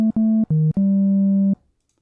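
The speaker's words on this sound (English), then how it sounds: "let's begin with the sine wave" Synthesizer tones: three short notes with a slight pitch dip on the third, then a longer held note that cuts off into silence.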